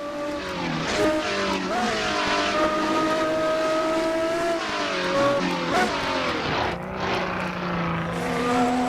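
Race car engine in the Assetto Corsa racing game at Le Mans, a loud sustained tone rising and falling through gear changes, with brief dips as revs shift and the car pushes on without pause.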